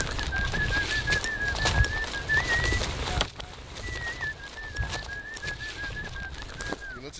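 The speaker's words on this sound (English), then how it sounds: "They whistle to communicate. When he whistles, then they whistle back." A Hadza guide in the Tanzanian bush gives two long, wavering whistles, moderately loud against rustling outdoor noise and occasional clothing scrapes.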